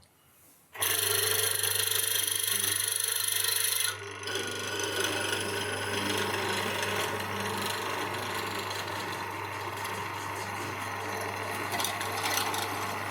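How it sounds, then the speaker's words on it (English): A Charnwood W316 hollow chisel morticer with a 1/4-inch chisel bores a 40mm-deep mortise in wood in one pass: a loud steady motor whine with rasping chisel cutting that starts abruptly and drops slightly as it continues, with no one speaking. "I'm going to start off with a tiny 1/4" chisel and cut a 1/4" wide mortise."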